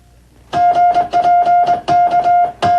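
Morse code dots and dashes sent over radio: a loud, clear single-pitch tone keyed in quick rhythmic bursts of short and long beeps, close and without talk.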